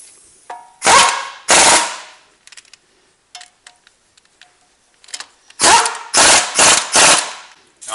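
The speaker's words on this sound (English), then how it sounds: "Now I'm just snugging these bolts up with the impact" A handheld impact wrench snugs brake caliper bolts on a Chevy Suburban front brake job, a few loud, close rattling hammering bursts separated by quiet gaps with small metallic clinks between.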